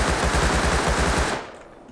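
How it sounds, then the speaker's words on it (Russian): A fast automatic burst from a Thompson in the video game Rust, loud, close and tightly spaced shots rattling for over a second, then stopping abruptly into a brief fading echo. "Томпсон, конечно же, быстрее выстреливает."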